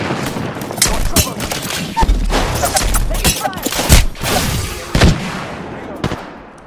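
An airstrike in Apex Legends brings sustained, loud gunfire mixed with booming explosions, with heavy impacts landing every second or so and a voice speaking amid the chaos.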